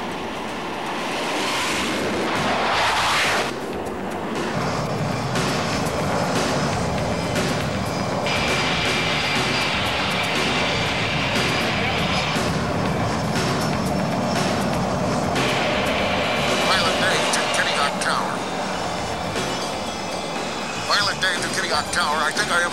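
A small plane's engine drones steadily close up, with wind rushing through and a voice talking over it at times.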